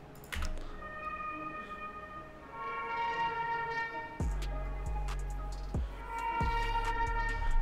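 A brass sample run through distorted, vintage-style effects plays sustained tones over heavy low thumps that enter partway through, giving a dark, gritty texture.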